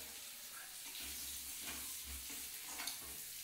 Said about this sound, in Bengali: আলুটাকেও লাল লাল করে একটু ভেজে নিচ্ছি